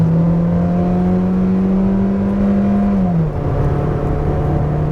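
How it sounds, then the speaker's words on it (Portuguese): A 2016 Hyundai HB20 Premium with a six-speed automatic gearbox under kickdown acceleration, a loud engine drone rising steadily in pitch, then dipping smoothly as the gear changes and climbing again, heard from inside the car without talk. "Vamos dar um kickdown nele."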